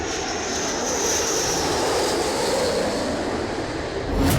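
A B-1 bomber's jet engines roar in a loud, steady broadband rush that swells slightly near the end, with no voices.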